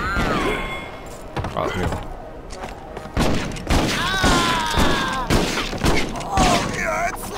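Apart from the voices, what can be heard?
gunfire in the video game Red Dead Revolver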